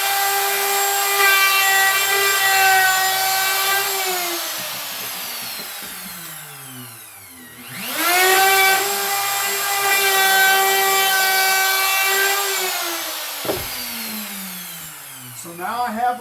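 Router flush trimming a wood pattern piece: a loud, high-pitched motor whine that winds down, spins back up and cuts steadily, with a brief dip before ending in small knocks.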